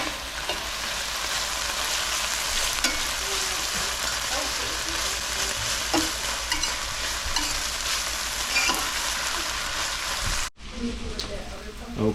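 Vegetables and about a clove and a half of garlic sauté in a pan with a steady, loud sizzle and frequent stirring scrapes, and the sound drops off briefly near the end before picking up again.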